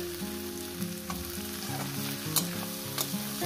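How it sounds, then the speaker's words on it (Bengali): Onion, garlic and green chilli fry and sizzle in a pan, a continuous close crackle and hiss with soft stirring scrapes and no voices. "আমি পেঁয়াজ আর রসুন কাঁচা লঙ্কাটাকে যেভাবে ভেজে নিচ্ছি"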